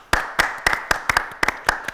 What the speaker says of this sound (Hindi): तो मोहसिन के लिए तालियां